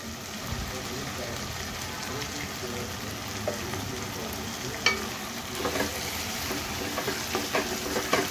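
Ground masala paste frying in a pan carries a continuous soft sizzle and crackle with occasional stirring clicks toward the end, fairly quiet and without talk.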